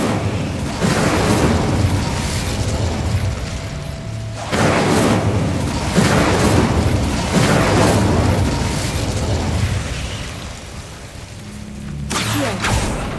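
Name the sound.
Incendio fire spell blasts in the video game Hogwarts Legacy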